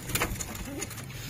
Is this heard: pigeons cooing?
yes